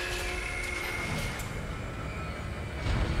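A tram car in the Dead Space video game rolls along its rails with a steady, loud mechanical rumble and a faint high whine that build slightly toward the end.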